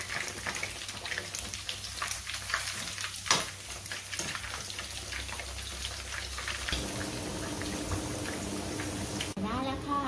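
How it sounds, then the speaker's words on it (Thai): Pork pieces frying in hot oil for crispy pork belly, a steady crackling sizzle running throughout with stirring noises and a voice talking over it at times. "ก็นำหมูของเราทอดนะคะ ตั้งน้ำมันให้ร้อนค่ะ"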